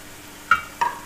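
Finely chopped large onions fry in hot oil, browning lightly for a goat trotters paya curry; two quick stirring clinks land over a faint, low sizzle.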